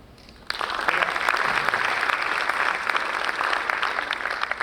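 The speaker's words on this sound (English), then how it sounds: "Please bring a big applause for a lady called Cheryl Koskela" Audience applause greets a woman being introduced on stage at a company event, starting abruptly after a quiet moment and holding as a steady, dense, full-room clapping.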